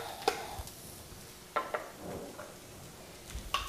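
Diced potato, carrot and zucchini go into a pan with garlic, giving a soft, quiet sizzle with a few sharp clinks and scrapes of a utensil stirring against the pan.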